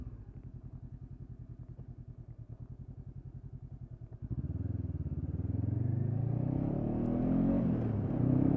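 Honda CB500X motorcycle engine pulsing at a steady idle-like throb, then building into a louder, rougher roar as the rider pulls away and turns around, heard close with wind noise.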